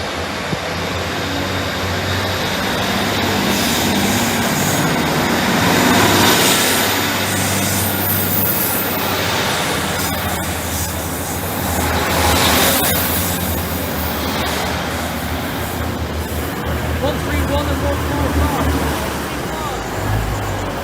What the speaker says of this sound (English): Transport for Wales to Manchester Airport, which is going to make an initial stop here